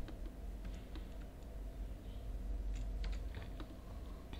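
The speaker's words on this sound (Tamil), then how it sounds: "கேப்சாவையுமே நம்ம பார்த்து கரெக்டாக டைப் பண்ணி எடுத்துக்கலாம்" Typing on a computer keyboard to enter a captcha: scattered clicks and taps of the keys, fairly faint over a steady low hum of the room, with no talking.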